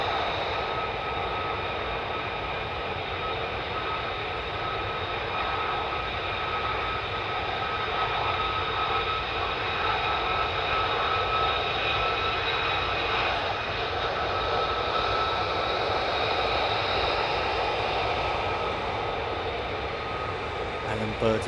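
48th Fighter Wing fighter jets at the end-of-runway area of an airfield, a loud sustained engine roar and whine holding steady for over twenty seconds.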